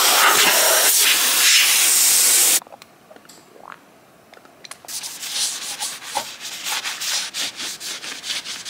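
Abrasive sanding of body filler on a 2015 Mercedes-Benz C450 AMG under repair, a loud steady rasp that stops abruptly, then after a quiet pause resumes as rhythmic back-and-forth scuffing strokes.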